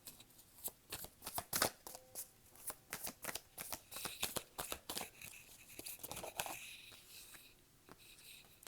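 Tarot cards are shuffled and drawn by hand in a quiet room, a quick run of crisp riffling snaps and slaps with brief pauses, close and fairly faint, with no talking.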